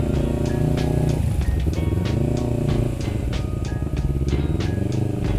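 A manual-clutch motorcycle rolling in first gear with the clutch being worked: a close, loud, steady engine drone with shifting pitch as the revs rise and fall, continuous throughout.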